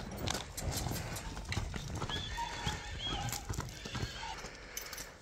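Hooves of a Wielkopolski horse, a light, fast Polish breed, clip-clopping steadily nearby, with a few whinnies and some faint voices in the background.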